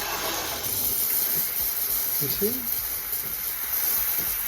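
An Urintells 20-bar espresso machine's steam wand hisses steadily and loudly throughout, a constant airy rush, while a person speaks briefly over it.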